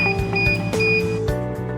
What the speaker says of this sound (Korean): 30초에서 50초면 껍질이 제거되고 알람이 울립니다.